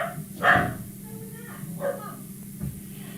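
Several dogs bark indoors in a home, a loud burst followed by two softer bursts spaced over a few seconds, with room noise beneath.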